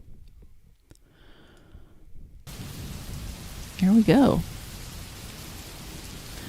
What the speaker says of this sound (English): So we're going to play some rain